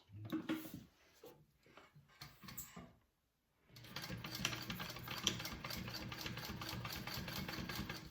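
A sewing machine top-stitches along a flap of a handbag. After a few soft handling sounds and a short pause, it runs in one steady, quiet, continuous whir that lasts several seconds.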